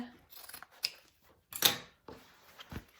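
Scissors trim excess zipper facing fabric while a bowler bag is being sewn: a few crisp, close snips with quiet handling between them and the loudest cut near the middle.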